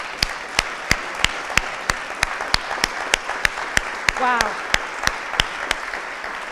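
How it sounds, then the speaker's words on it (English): Applause from an awards gala audience, mostly evenly spaced, loud claps close to the mic, plus a brief exclamation partway through. "You need a round of applause."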